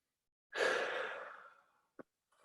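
A single deep, slow breath drawn in during a guided breathing exercise, close and soft, swelling then fading over about a second, followed by a short faint click and a quieter breath.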